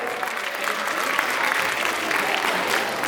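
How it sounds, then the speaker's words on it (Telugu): An audience at an Ugadi celebration claps steadily and loudly as board members come onstage, a sustained, dense burst of applause filling the hall. "ఒక్కసారి గట్టిగా చప్పట్లో"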